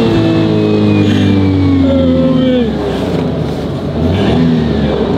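A loud car engine revs and drones close by, its pitch rising and sliding as it accelerates, with road noise underneath.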